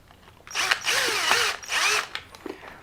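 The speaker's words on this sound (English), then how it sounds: "And then you try to screw it in." A small screw being driven into an LC Racing L6039 bumper on a 1/24-scale 124019 RC car, making two close whirring drill-like bursts with ratcheting clicks, then a few quieter ticks at the end.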